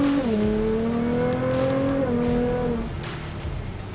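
A 750-horsepower Nissan GT-R accelerating up a hill gives a loud, close engine drone whose pitch climbs and drops with gear shifts, then settles into a lower rumble.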